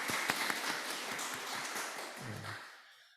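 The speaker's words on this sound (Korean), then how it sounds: "우리 서로를 향해 환영의 박수를 드리도록 하겠습니다." A church congregation gives a short round of welcoming applause during a Sunday worship service, clapping fairly distant and soft, fading out toward the end with a brief low tone underneath.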